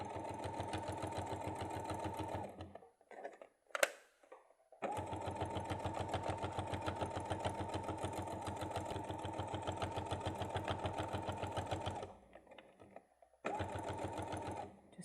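A sewing machine stitches bag seams in long steady runs of rapid mechanical whirring, close and fairly loud, broken by short pauses with small clicks between runs.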